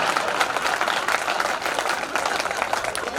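Audience applause at a Hindi poetry gathering (kavi sammelan) in Parasiya, a steady, dense clapping from a crowd that holds at an even level throughout, with no voices standing out.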